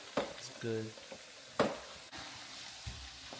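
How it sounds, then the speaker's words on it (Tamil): Vada fritters fry in hot oil with a soft, hissing sizzle, broken by sharp clinks and taps of a utensil against the pan. A brief hum of voice rises in between. "வடை சுட்டு கொண்டிருக்கிறேன்"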